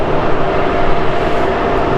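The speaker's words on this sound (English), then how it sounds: "look at that Aer Lingus Retro" A jet airliner in Aer Lingus retro livery roars steadily at Manchester Airport, a loud, continuous broadband engine rush with no breaks.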